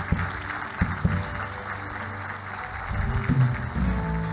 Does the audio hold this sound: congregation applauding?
yes